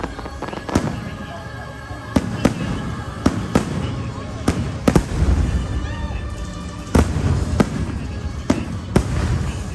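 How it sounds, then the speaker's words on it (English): Fireworks burst over a Disney park at night, a rapid series of loud booms and crackles echoing at a distance over a constant crowd murmur, with some talking nearby. "The fireworks have just literally finished."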